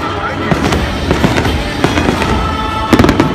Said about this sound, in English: Fireworks display.